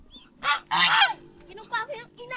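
Goose honking loudly in close repeated calls, with a pair of strong bursts followed by shorter, fainter honks, set in a farmyard where goose eggs have just hatched.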